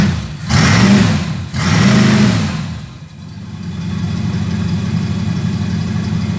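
A Chrysler 318 V8 in a Bombardier snow machine with engine trouble gives two loud, close revs, then settles into a steady, rumbling idle.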